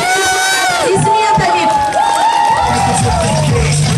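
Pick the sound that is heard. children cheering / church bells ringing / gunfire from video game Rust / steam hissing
children cheering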